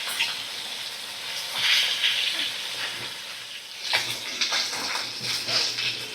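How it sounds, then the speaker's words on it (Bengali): Gurjali fish pieces coated in salt and turmeric fry in hot oil over medium heat, giving a steady close hiss of sizzling that swells into louder crackling bursts at moments, with no talking. "নুন হলুদ মাখানো মাছ আমি ছেড়ে দিলাম গরম তেলে"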